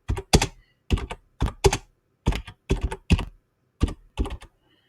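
Computer keyboard typing while entering a banner title in WordPress: about a dozen crisp, close key clicks in short irregular clusters, with quiet gaps between and no talking.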